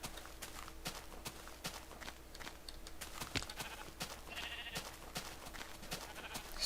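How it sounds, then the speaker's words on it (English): Blocky Minecraft sheep bleat several times at varying distances, mixed with soft in-game footsteps on grass and a quiet, steady background. "Wow, so many sheep."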